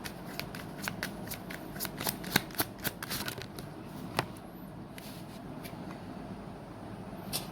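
Tarot cards are shuffled close up in a quiet room, a run of soft riffling flicks and sharper snaps that thins out toward the end, with no talk.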